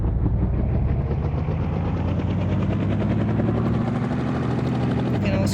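Helicopter in a zombie video game, a loud steady rotor thump and engine drone running continuously throughout, with someone talking over it.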